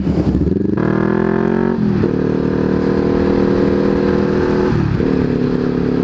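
A Honda CB500X motorcycle engine pulls hard while riding, loud and close, rising in pitch through several gear changes with brief dips between shifts, over rushing wind noise.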